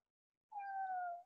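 A single cat meow, drawn out and slightly falling in pitch, clear and close in an otherwise silent space, lasting under a second.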